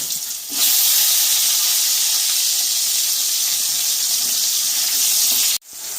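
Onion and tomato drop into hot oil left from frying potato and ol (elephant foot yam) for a chicken bhuna and burst into a loud, steady, close hiss that holds for several seconds, then cuts off abruptly.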